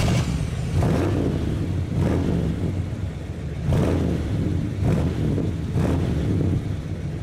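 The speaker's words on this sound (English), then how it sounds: "the exhaust on this thing's been modified. It has Flowmasters or something on it, so it sounds a little weird." A 1976 Cadillac Eldorado engine with a modified Flowmaster exhaust, captured from inside the car on the move: a deep, steady exhaust drone with periodic swells as the throttle rises and eases, plus wind rush, and no talk.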